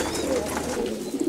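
A pigeon cooing close by in a short run of soft, low, rolling calls, with slight background noise.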